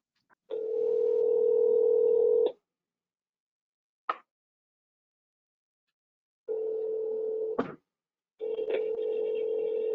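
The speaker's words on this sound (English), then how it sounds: "I'll just try calling her" A telephone dial tone plays while a call is placed during a council meeting: a steady close hum in three long stretches with silent gaps and a brief click between them.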